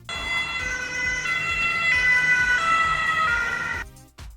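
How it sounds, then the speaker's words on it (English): An ambulance siren wails steadily, a loud tonal sweep holding for nearly four seconds before cutting off abruptly into a short burst of noise. "ambulance,"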